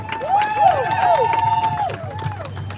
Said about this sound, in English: Clap it up for Josh